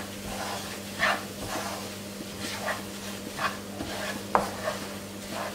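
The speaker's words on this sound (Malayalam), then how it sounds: "അതുവരെ നമ്മൾ വീണ്ടും ലോ ഫ്ലെയിമിൽ തന്നെ ഇട്ടിട്ട് ഇളക്കി കൊടുത്തുകൊണ്ടിരിക്കുക." Roasted semolina is stirred in ghee in a pan over a low flame, giving soft, irregular scraping and gentle sizzling, with a few faint clinks of the spoon against the pan over a low background hum.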